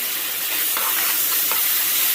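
Spice paste with coriander leaves being stirred in a hot pan for prawn kofta curry, a continuous close sizzle with a few soft scraping strokes of the spoon, no voices.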